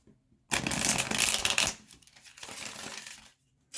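Tarot cards being shuffled up close in two bursts, a long dense riffle followed by a softer, shorter shuffle, with brief quiet before and after.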